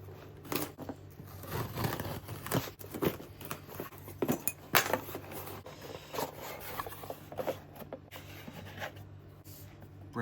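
RV keys scraping and tearing at plastic packaging, a series of short, close rasping scratches and crinkles in irregular bursts, fairly quiet against a steady low background hum.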